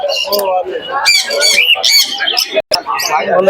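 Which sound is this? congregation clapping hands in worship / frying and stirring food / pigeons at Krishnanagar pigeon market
pigeons at Krishnanagar pigeon market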